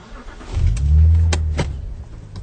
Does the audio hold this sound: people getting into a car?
yes